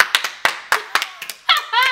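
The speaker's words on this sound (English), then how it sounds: "Can we just have a round of applause for Caitlin?" A few people clap in quick, uneven individual hand claps, close and sharp, as a voice begins speaking at the end.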